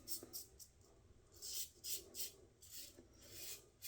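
A safety razor makes buffing passes through whiskers, a series of soft, close, crisp rasping strokes in an irregular rhythm, with no talk.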